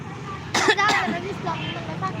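A short, harsh cough bursts out twice close by, with faint road noise and talking around it.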